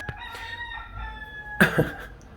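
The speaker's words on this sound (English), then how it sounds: "Rooster." A rooster crows once, fairly close, its call rising sharply after a quieter stretch of steady tonal background hum.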